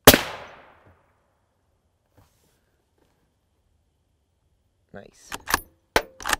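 An M995 armor-piercing rifle round strikes a Level III silicon carbide armor plate with one sharp, loud crack that rings out and fades, followed by several seconds of quiet and then brief voices and clatter.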